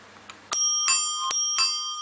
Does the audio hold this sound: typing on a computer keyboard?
no